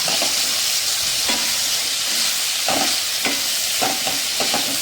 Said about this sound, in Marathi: थोडासा तेलामध्ये परतवून घ्यायचा आहे टोमॅटोला